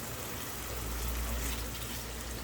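Two tablespoons of water hit the masala in a pan of cooking chicken karahi, giving a continuous rushing hiss that stays fairly even for a couple of seconds without speech.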